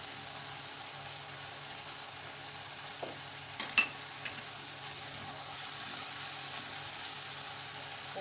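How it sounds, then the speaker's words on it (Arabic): Diced onions and onion powder sizzling in a frying pan, a steady soft hiss throughout with a few brief clinks of a utensil near the middle. "هنزل بقى بالبصل البودرة، بالبصل اللي متقطع مكعبات ده"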